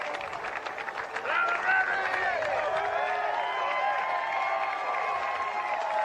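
A large arena crowd keeps applauding non-stop after the WNBA Draft pick, dense clapping and cheering rolling on under a commentator's talk.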